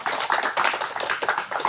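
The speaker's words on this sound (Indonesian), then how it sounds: "Boleh tepuk tangan." Applause from the audience at an art exhibition opening in Purbalingga, Indonesia: a short burst of close, uneven clapping from a small crowd, lively and fairly loud.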